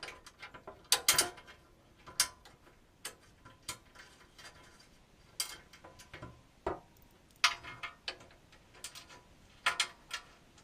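Bolts being driven into an RCI skid plate, front hardware first, heard as scattered close clicks and ratcheting ticks at an irregular pace, fairly quiet with no talking.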